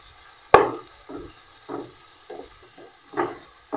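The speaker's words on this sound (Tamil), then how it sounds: "வெங்காயத்தை கிண்டி விட்டுவோம்." Onions being stirred in hot oil with fennel seeds for Chettinad prawn masala over a low flame, with a sharp utensil scrape followed by several soft, spaced scraping strokes over a faint sizzle.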